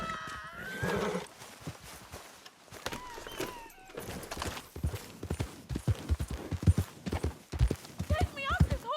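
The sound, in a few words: horse hooves clip-clopping, video game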